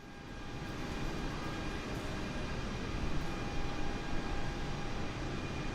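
An Airbus jet engine in Microsoft Flight Simulator drones as a steady, broad roar with faint whining tones above it, constant and fairly loud throughout without speech.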